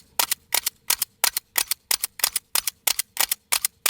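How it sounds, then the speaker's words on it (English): A Glock pistol with no magazine is struck again and again against a concrete block, giving a steady run of about a dozen sharp, loud, close cracking impacts at an even rhythm, with no talking. "he's hitting this thing hard enough, it's actually chipping away at the concrete block"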